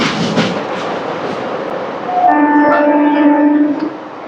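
A MEMU train rattles across the Godavari bridge, a rushing rumble of wheels that gives way midway to a sustained horn blast, loud and close, with no talking.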